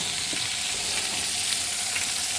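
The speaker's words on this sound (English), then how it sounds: "We got a good sizzle going right now." Butter sizzles steadily in a hot pan before scallops go in, a close, continuous crackling hiss with small pops throughout.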